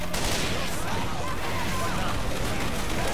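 Fireworks explode in the Left 4 Dead 2 carnival level as a dense, continuous barrage of loud crackling bangs and bursts, with players' voices faintly mixed in.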